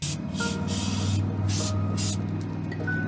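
Steady aerosol brake cleaner spraying down onto a truck spindle in bursts, hissing over a low mechanical hum, with short pauses between sprays.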